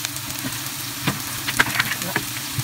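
Garlic frying in a saucepan while making meatless macaroni soup, a steady close sizzle with crackling pops and occasional stirring scrapes, fairly loud throughout.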